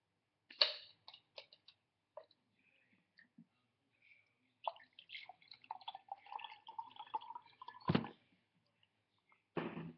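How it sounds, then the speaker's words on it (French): Water is poured into a glass in a kitchen while preparing a healthy lemon drink, heard as faint, scattered splashes and trickles with brief clinks, quiet and close, with no talking. "vous prenez un verre. Vous mettez de l'eau."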